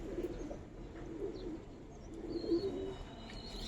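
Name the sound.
Giribaz coloring pigeons cooing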